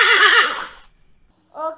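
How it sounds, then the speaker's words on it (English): A horse neighs loudly with a wavering whinny, played back by a Google Assistant smart speaker, followed after a short pause by a brief second voice-like sound. "This is a horse."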